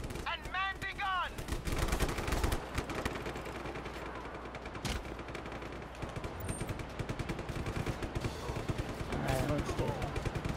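A mounted gun fires from a tower in the Just Cause 3 video game, with rapid machine-gun bursts and booming explosions running throughout. Voices talk over the gunfire at times.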